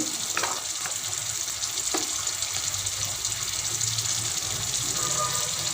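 Ginger and garlic fry in a pan of oil for a fish curry, giving a steady sizzle with a few sharp clinks of utensils near the start and faint running water in the background.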